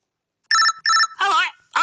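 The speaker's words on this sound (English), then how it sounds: "There's a call coming in for you." A phone ringtone for an incoming call chimes in bright, electronic bursts, three quick rings and the start of a fourth, loud and close against silence.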